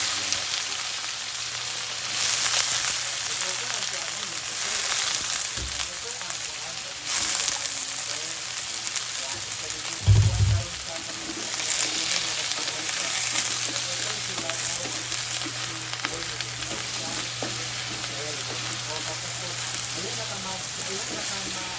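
Browning food sizzles loudly in a wok as it is stirred and tossed, giving a continuous crackling fry with occasional scraping clatters, and faint voices can be heard in the background.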